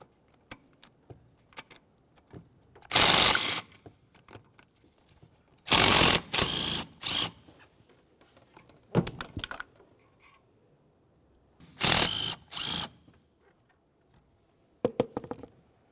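A hand ratchet loosens the 13mm exhaust manifold mounting bolts on a 2005-2010 Chevrolet Cobalt. Several bursts of rapid metallic clicking come close up, separated by quiet pauses and small tool noises.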